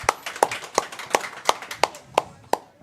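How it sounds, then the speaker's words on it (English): An audience applauding a school district superintendent at a coaches show, heard as a small scattering of close, evenly spaced hand claps, about ten over a few seconds. "Ladies and gentlemen, give him a round of applause, please."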